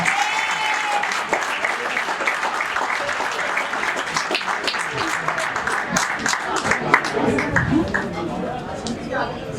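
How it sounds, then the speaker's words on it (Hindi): At a school function, an academy's 2022 program, an audience claps loudly and continuously in a dense, close wash, with voices audible over the applause. "जोरदार तालियां करिए, तब से आपसे तालियां करवाया जिनको जरूरत है।"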